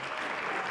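Audience clapping at a presentation on a graphic novel, heard as a dense, steady burst of applause throughout the short moment.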